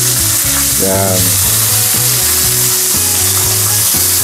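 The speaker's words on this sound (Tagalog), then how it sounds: "Bali, side to side po natin siya i-fry." Garlic chicken thigh frying in a pan gives a steady, close sizzle across the short stretch, under tonal background music, with a single brief spoken word.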